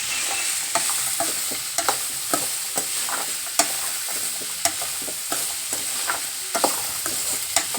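Cabbage and mixed vegetables sautéing in a pan for vegetable soup: a steady frying sizzle broken by crisp spoon scrapes about once a second, with no voices.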